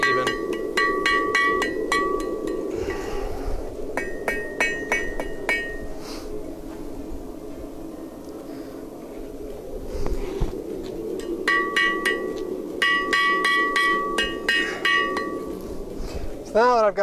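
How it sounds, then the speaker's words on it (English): A blacksmith hammers out a curve in hot metal on an anvil, with bursts of bright ringing strikes in quick rhythmic runs separated by short pauses, close and loud over background noise. "I'm going to come up here and hammer out my curve"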